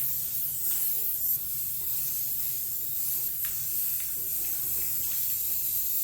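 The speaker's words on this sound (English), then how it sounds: "I'm actually gonna go ahead and spray some sealant on here" Steady hiss of an aerosol can spraying sealant onto a stand mixer, continuous over several seconds, with faint background hum and no talk.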